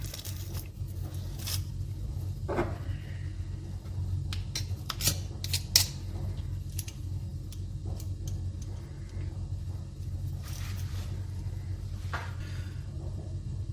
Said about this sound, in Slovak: Pretlačíme cesnak.